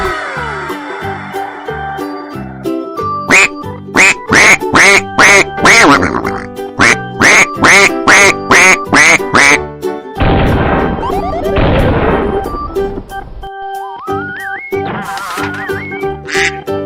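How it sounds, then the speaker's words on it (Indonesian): A duck quacks in loud, rapid bursts over a bouncy cartoonish music track, with a crashing noise midway and sliding tones at the end. "duck, Bebek."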